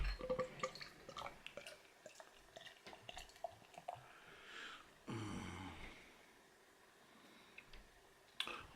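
Samuel Adams Boston Lager poured from a bottle: quiet clicks and drips give way to a gush of liquid and fizzing foam midway, close and soft, ending with a sharp clink.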